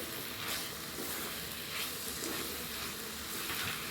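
Potatoes and beans sizzle and fry in a hot pan with a steady, close crackling hiss that never stops.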